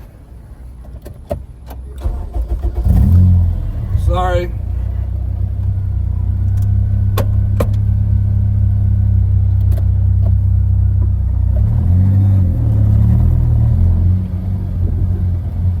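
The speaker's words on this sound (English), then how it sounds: "just stomping on the gas in first gear from a idling rolling speed" A K-Pro tuned car accelerates hard in first gear from an idling rolling speed, its engine swelling into a loud, sustained rumbling roar that holds for several seconds; a voice speaks briefly at the start.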